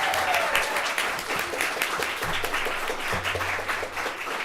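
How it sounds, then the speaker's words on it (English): Applause from a poetry recitation event audience, a steady broadband patter of many hands clapping at moderate distance, sustained throughout without letting up. "And a big round of applause for Brigitta Tonga."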